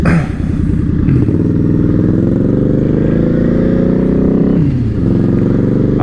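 A motorcycle engine drones loud and close while riding, with the pitch rising and falling through gear changes and a steady rumble throughout.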